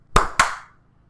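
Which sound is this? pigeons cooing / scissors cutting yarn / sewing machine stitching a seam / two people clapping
two people clapping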